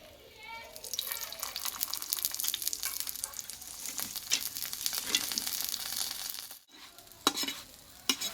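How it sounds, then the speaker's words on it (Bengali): Flatbread frying in oil in a pan, a moderate close crackle and sizzle with intermittent scraping from a spatula pressing it down, and a brief burst of running water near the end. "ভালোভাবে তেল দিয়ে ভেজে নিতে হবে"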